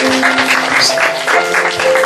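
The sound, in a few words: congregation applause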